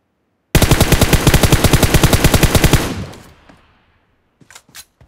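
A loud, close burst of rapid automatic gunfire in PUBG Mobile lasts about two seconds and rings out into a fading echo, followed by a few faint distant shots.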